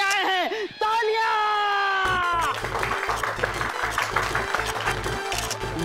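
After a brief sustained tonal sound, a crowd bursts into steady applause, many hands clapping together at moderate distance.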